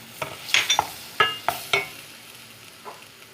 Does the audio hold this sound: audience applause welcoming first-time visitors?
no